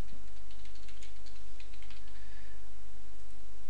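Computer keyboard typing heard faintly under a constant loud low hum, with a light scatter of quick clicks that fade after a couple of seconds.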